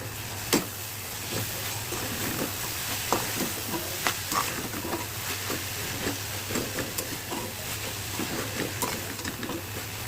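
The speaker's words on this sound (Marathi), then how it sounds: "तुम्ही बघू शकता तेंडळी छान परतली गेलेली आहे।" Small tendli fish tossed in a spiced masala in a pan, with repeated scraping stirs and clicks over a soft continuous sizzle, close by and moderately quiet, no voices.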